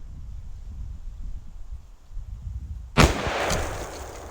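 An AR-12 shotgun fires a single sharp, loud blast at a turkey target outdoors, cutting through steady wind noise, followed by a brief rolling echo.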